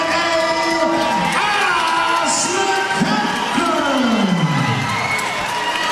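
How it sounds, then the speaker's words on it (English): A crowd cheers and whoops for an amateur bantamweight fighter being introduced at a UK MMA event, loud and sustained, with a few individual yells rising over the roar. "A nice little pop from the crowd over there."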